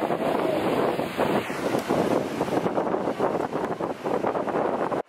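Steady, roaring wind buffeting the microphone, loud and constant throughout, with a faint high tone fading out early.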